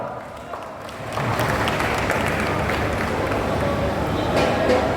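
Crowd applause at an Aam Aadmi Party political rally in Haryana, held in the rain, swelling after the first second into a loud, sustained clapping mixed with crowd noise.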